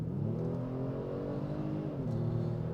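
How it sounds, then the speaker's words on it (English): A 2023 Kia Stinger GT at full throttle in Sport mode, its engine droning and climbing steadily in pitch, then a brief dip at a gear change before rising again, loud and close with no talking. "And let's give it full throttle."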